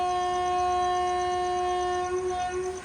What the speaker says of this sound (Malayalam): ആറ് 34 ട്രെയിൻ ഇങ്ങനെ കാഞ്ഞങ്ങാട് സ്റ്റേഷനിലേക്ക് എത്തിയിരിക്കുകയാണ്.